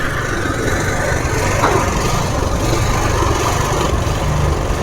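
A drilling machine engine drones loudly and steadily throughout, a constant close rumble with no pauses and no voices.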